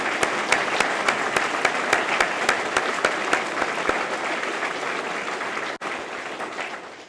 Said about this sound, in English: let's give the Woodson family a big round of applause